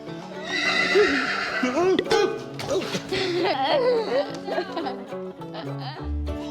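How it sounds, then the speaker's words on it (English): A horse in a stable whinnies loudly and repeatedly up close, with clip-clop of hooves and a voice speaking partway through. "Hello, horse."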